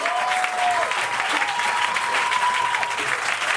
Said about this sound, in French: tu acclames encore très fort pour Jésus-Christ de Nazareth